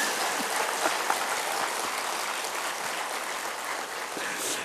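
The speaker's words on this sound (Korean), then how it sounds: "박수 한번 주면 좋네" Steady applause from a church congregation at an evening revival service fills the room, a dense even wash of clapping that holds at constant level throughout without any speech.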